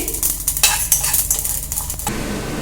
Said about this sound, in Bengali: মশলাগুলো ছিট করছে তার মানে কিন্তু মশলা ভাজা হয়ে গেছে